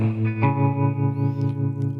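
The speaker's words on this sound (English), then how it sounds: "Now let's do the panner." Electric guitar playing a slow major blues riff through a panner effect, a short sustained chord with a fresh pick attack, steady and close with a pulsing tremolo-like wobble, no talking.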